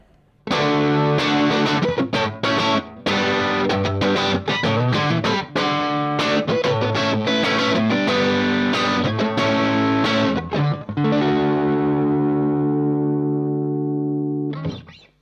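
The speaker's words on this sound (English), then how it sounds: "if you strum harder, you get that nice crunch kind of sound" Electric guitar strummed hard in quick, driving chord bursts with a gritty crunch distortion, ending on a long ringing chord.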